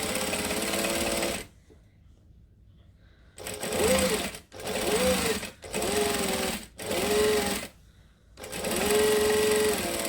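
A sewing machine stitches a fabric strap in repeated runs of steady whirring, each several seconds long and broken by brief stops, close and loud with no talking.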